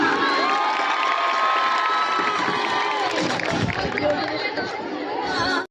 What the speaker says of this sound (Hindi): तालियों की गूंज बढ़ाओ जरा